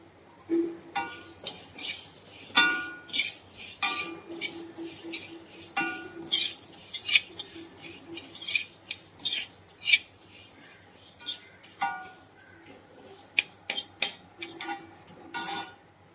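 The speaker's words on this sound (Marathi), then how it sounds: "उडदाच्या डाळीचा सुद्धा रंग असा खरपूस आपण भाजून घेतलेला आहे" Urad dal dry-roasting in a pan for chakli flour is stirred with a metal spoon, giving repeated close scraping and clinking strokes in an irregular rhythm with faint rattling grains between them.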